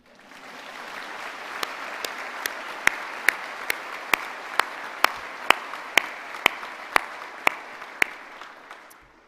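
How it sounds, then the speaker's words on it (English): Graduation ceremony audience at the University of Stirling claps warmly for an honorary degree recipient, a steady swell of applause rising from quiet, with a series of sharp, regular loud claps from nearby standing out. "The applause is well deserved."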